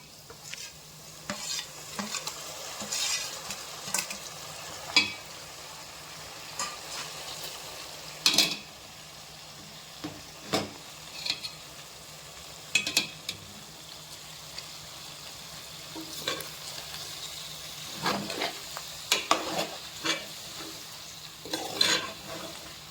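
Chicken frying with ginger-garlic paste while being stirred, a soft continuous sizzle broken by repeated scraping and clacking of the spoon against the pan at irregular intervals, no talking.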